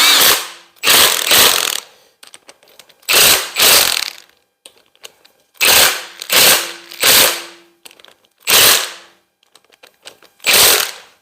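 Milwaukee impact gun working on a truck wheel, firing in loud, sharp hammering bursts of one to two seconds, close up, with short silent pauses between pulls.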